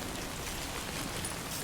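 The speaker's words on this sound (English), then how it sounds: "What am I doing fucking waiting for the rain?" Steady rain falling in the video game Death Stranding 2, a dense even patter of drops on surfaces with no voices, continuous throughout.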